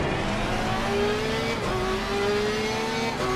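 A Porsche race car in the Assetto Corsa sim revs hard on the home straight at Red Bull Ring, its steady engine note climbing in pitch with brief shifts and echoing off the walls, with no talk.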